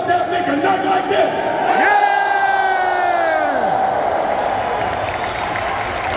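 Large arena crowd at the WWE Money in the Bank wrestling event roaring and cheering continuously, with a loud rising chant-like swell in the middle.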